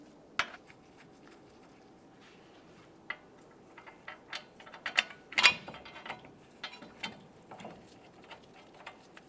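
A ratchet snugs the sensor mounting bolts on a 1999-2006 Chevrolet Silverado 1500 truck wheel, giving faint, scattered clicking bursts in a quiet garage with no voices.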